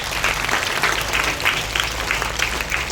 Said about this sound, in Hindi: खुद के लिए जोरदार तालियां बजाओ।